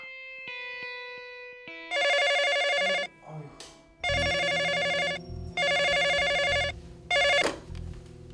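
A telephone rings at night in a rural house in loud repeated bursts, each trill lasting about a second with short pauses between, after a brief electronic chime.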